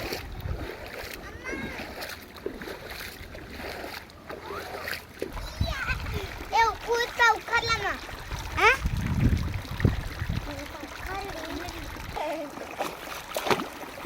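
Children walk through flowing irrigation water along a narrow path in a coconut sapling garden, with splashing and trickling that grow busier midway and blend with occasional kids' voices nearby.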